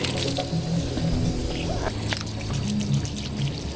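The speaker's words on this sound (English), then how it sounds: "Do you care if I water him down with the hose a little bit?" Water from a garden hose pours and splashes onto a skunk freed from a wall, a steady close rush of liquid with soft squishing and no clear voices.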